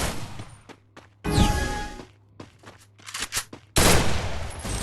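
An MP40 submachine gun fires in a video game, several bursts of rapid automatic shots close and loud, separated by brief pauses.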